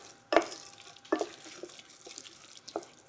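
Spiced spelt porridge with coconut milk and raisins being stirred in a pot, a few wet scraping, sloshing strokes spaced apart, close and fairly quiet with no talking.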